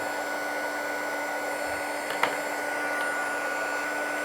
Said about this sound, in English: while it's got the hairdryer on